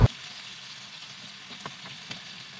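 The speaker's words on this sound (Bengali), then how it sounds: "আলুগুলোকে আমি একদম হালকা করে ভেজে নিচ্ছি।" Potatoes fry gently in the oil left from cooking meat, producing a soft, steady close sizzle with a couple of faint ticks and pops after a brief knock at the start.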